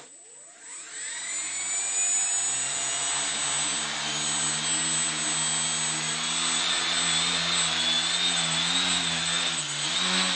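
RC model aircraft flying indoors, a loud continuous high-pitched motor whine with rising and falling pitch as it maneuvers nearby, no voices.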